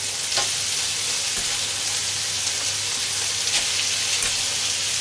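Chicken, pork and vegetables sizzle in a hot wok while being stirred, a steady, close hiss of frying oil that continues without pause and with no talking.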